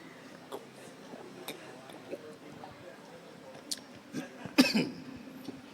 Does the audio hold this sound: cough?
yes